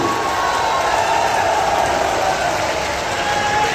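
A large crowd at an outdoor election rally for Lok Sabha candidate Kirtivardhan Singh in Gonda claps loudly in a dense, continuous roar, with a faint tone running beneath.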